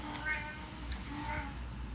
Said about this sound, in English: If you hear that, that is our cat, Shelby or Dusty.